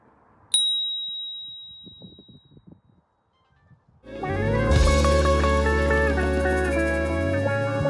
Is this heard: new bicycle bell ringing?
yes